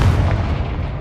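A Confringo fire-spell blast from Hogwarts Legacy: a single deep, booming explosion that hits loud at once and rumbles on through the whole second with a low, heavy tail, no voices.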